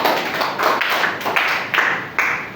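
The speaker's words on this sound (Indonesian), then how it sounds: "Beri tepuk tangan buat Mas Budi" A classroom microteaching group claps for a presenter, a short run of close, uneven hand claps for a couple of seconds with no talk.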